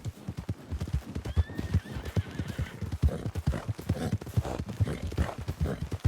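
A horse whinnies over a steady clip-clop of hooves in Red Dead Redemption II, the hoofbeats close and rhythmic throughout with a faint voice underneath.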